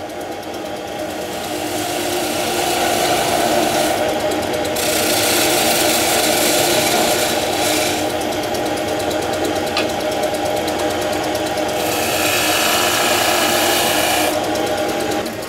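A small palm-wood blank spins on a wood lathe while a skew chisel cuts a tenon, giving a steady, loud whirring drone with a continuous scraping hiss that runs unbroken from start to finish, with no voices.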